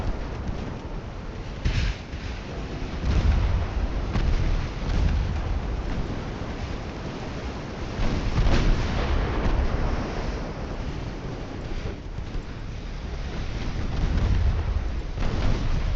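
Naval gunfire in Ultimate Admiral: Dreadnoughts during a Spanish-American War battle, heard as dull distant booms rumbling over a constant roar of wind and sea surf, several thuds spread across the stretch.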